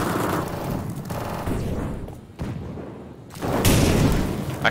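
Wallbang spray of automatic gunfire in the Counter-Strike video game, loud rapid bursts of shots fired through cover, with a brief lull midway and a dense final burst.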